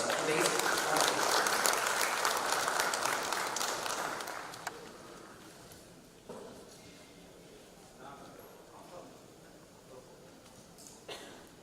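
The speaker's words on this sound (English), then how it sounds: "A round of applause for the chief guest of today's conclave." Audience applause at a joint audit conclave, greeting the chief guest, loud and dense clapping for about four seconds that fades into quieter room noise with a few scattered claps.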